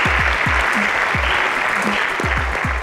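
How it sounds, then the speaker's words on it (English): Studio audience applause on a televised secondary-school quiz competition after a correct answer, a loud, sustained wash of clapping with low thumping beats and brief tonal blips underneath. "Round of applause."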